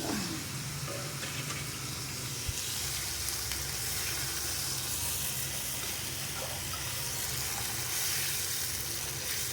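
Curry leaves crackling in hot oil for tempering a kootu, a steady, moderate sizzle close by with no voices.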